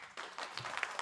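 An audience at a summer music festival performance claps hands for about a second, a thin, uneven patter of scattered claps that builds slightly toward the end.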